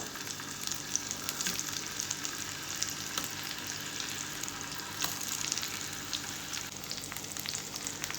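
Round tomato slices fry in melted butter in a pan, a steady moderate sizzle and crackle with occasional light scrapes, alone with no talking.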